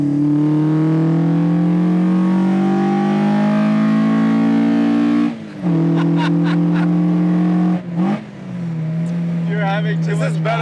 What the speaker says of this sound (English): the intake noise is So so loud